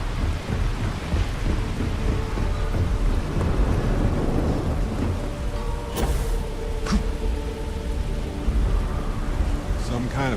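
Thunder rumbling through steady heavy rain during a lightning storm in the video game Starfield, a loud continuous downpour with a couple of sharp crackling strikes near the middle and end.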